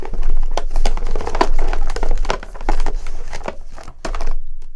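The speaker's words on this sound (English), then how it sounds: "I think I need to shuffle these better." Tarot cards being shuffled by hand: a steady stream of close, crisp riffling and rustling card sounds in quick repeated bursts, fairly loud, with short pauses between shuffles and no talking.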